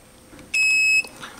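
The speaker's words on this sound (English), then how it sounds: "So it was beeping." A 250 watt grid-tie inverter gives one sharp, high-pitched electronic beep lasting about half a second, clear and close in an otherwise quiet room.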